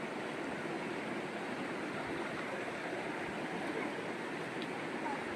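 A waterfall at Pachamalai in Tamil Nadu roars as a constant, dense rushing wash of falling water, steady and fairly loud throughout.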